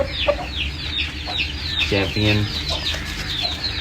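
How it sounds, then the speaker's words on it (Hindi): An Aseel rooster clucks in short repeated calls among other chickens, with a louder harmonic burst in the middle, heard fairly close over a brief spoken word. "बड़ा टॉप क्लास पट्टा है जी मुर्गा मेरा"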